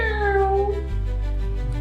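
A cat sound effect in an animated kids' story gives a single loud, close meow that rises and then falls away, followed by a lower, sustained tone.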